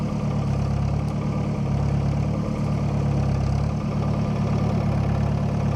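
An old farm tractor engine, strong enough to haul big boulders, runs steadily at idle close by, giving a continuous low, heavy rumble with no talking.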